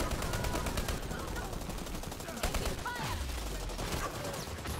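Rapid gunfire in the online shooter Dirty Bomb crackles in dense bursts across the whole stretch, mixed with game effects and faint voices.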